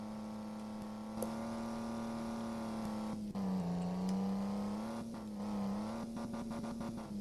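A vehicle drifting with the handbrake in the mobile game Truck Simulator Ultimate: a continuous engine hum that dips and swells in pitch as it slides, with faint clicking near the end.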